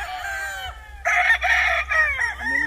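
Kelso sweater gamefowl roosters on a game farm, a loud nearby crow followed by overlapping crows and clucks from several birds, no talking.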